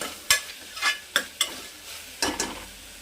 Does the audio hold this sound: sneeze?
no